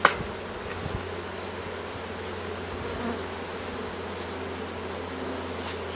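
Honeybees drone steadily around an open hive in September, a dense continuous buzz close by with individual bees passing near, after a sharp knock at the very start.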